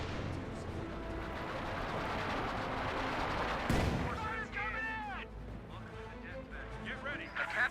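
Pack howitzer artillery fire in Company of Heroes 2, a dense battle bed of booming shots with one heavy blast near the middle, under a casting commentator's voice.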